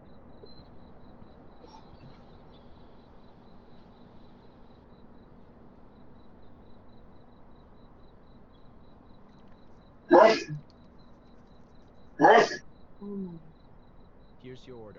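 Two sharp sneezes about two seconds apart come from a person at a busy shawarma kiosk, fairly close. A quieter hum runs beneath them, and brief speech follows.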